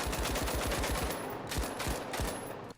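A machine gun firing in the shooter game The Finals, a rapid burst of loud, evenly spaced shots that shifts into a few slower separated rounds and stops abruptly.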